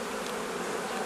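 Honey bees buzz steadily and close by at an open hive as frames are moved during drone rearing and swarm combining, a dense continuous hum with no voices.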